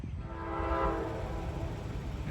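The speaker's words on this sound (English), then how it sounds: "Northbound CSX in the rain." A northbound CSX freight train rumbles past in the rain, a low steady roar with a sustained horn-like tone swelling and fading beneath it.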